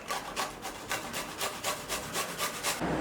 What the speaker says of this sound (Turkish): Sarımsağı rendeleyelim.